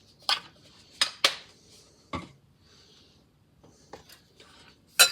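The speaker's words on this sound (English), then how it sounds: "mix all this together until we get a nice pancake batter" A utensil stirs pancake batter with vanilla extract in a bowl, giving sparse, irregular clinks and taps against the side, quiet between strikes.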